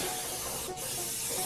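Steady close hiss of oil undercoating spray being applied to a vehicle underside at Luce's rust-proofing shop in Union, Maine, continuous and loud with a brief dip midway, no talk.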